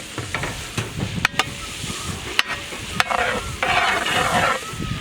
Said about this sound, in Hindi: इसी बटर में हम लोग स्लाइस्ड ग्रीन चिल्ली भी ऐड करेंगे।